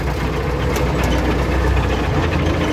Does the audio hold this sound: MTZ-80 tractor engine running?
yes